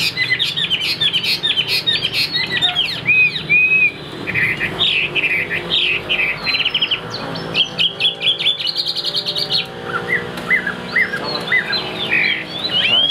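A hwamei, or Chinese laughingthrush, sings loudly and close by in a long, continuous stream of varied whistles, trills and rapid chirps, with no voices.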